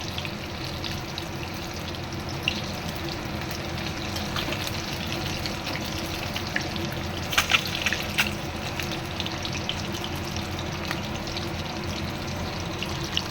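Steady hiss and crackle of tomato and egg chops frying in hot oil, continuous sizzle with occasional sharper pops, close and even throughout.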